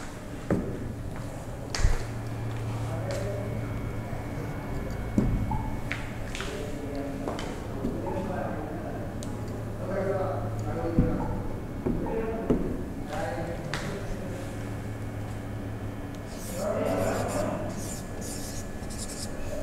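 Scratchy strokes of a chemical reaction equation being written out, calcium carbonate with dilute hydrochloric acid, continuing intermittently under a teacher's speaking voice.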